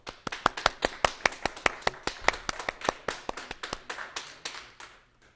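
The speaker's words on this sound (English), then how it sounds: "A huge round of virtual applause," Applause at a virtual fundraiser awards event: a single pair of hands claps close and crisp, about five claps per second for several seconds, with no other voices.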